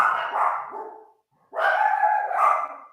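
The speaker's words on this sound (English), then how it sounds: "There goes my dog's barking." A dog barks twice, close by and fairly loud, with a short silent gap between the two bursts.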